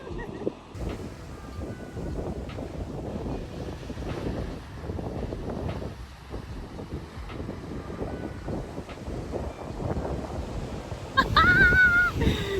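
Ocean surf and wind at the coast in Portugal: a continuous rushing wash of waves under heavy wind buffeting on the microphone, growing louder near the end.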